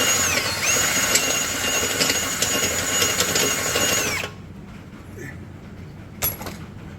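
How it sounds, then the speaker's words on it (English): A power drill whirs loudly for about four seconds during transmission work on a Ford F350, then cuts off, followed by quiet and a brief clink. "take the drill and just tune it up"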